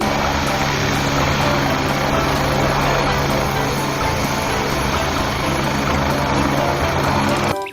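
A toy helicopter gives off a steady, loud, electronic whirring and rotor-like drone that runs unbroken from start to finish with no pauses.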